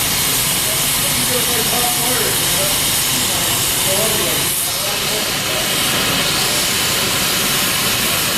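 A cutting torch flame preheating and cutting steel plate gives off a loud, continuous broadband hiss and roar that stays close and steady the whole time.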